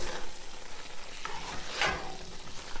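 Mushroom risotto with truffle oil and cheese is stirred in a pot, a soft continuous sizzle with gentle scraping swishes, close and steady throughout.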